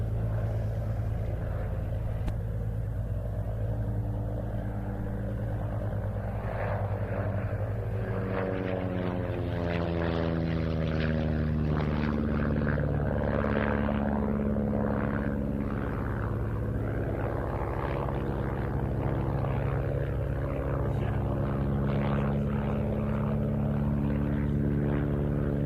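A de Havilland Chipmunk propeller trainer flies over Duxford at a flying day, its engine droning at a distance and then rising to a closer pass with shifting pitch, steady and moderately faint.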